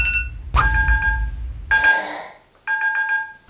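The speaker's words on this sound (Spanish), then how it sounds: "hasta que suene la alarma" An alarm timer goes off with loud, repeated electronic beeping bursts, a short ringing pattern that stops and then starts again, close by in a room.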